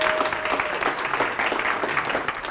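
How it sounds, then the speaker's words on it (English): Hypnosis conference audience claps for themselves, a short burst of steady, moderately loud crowd applause filling the room. "Give yourself a round of applause for being here."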